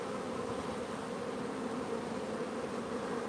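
Honey bees buzz steadily around a full beehive stacked with three supers and packed with capped brood, a dense, continuous close-up drone with no voices over it.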